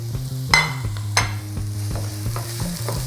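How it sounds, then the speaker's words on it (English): Onions sizzle in a hot pan while being stirred, with sharp scraping strokes of the utensil over a constant frying hiss, close and clear with no voices. "First thing that goes first is the onions. The onions need time to caramelize"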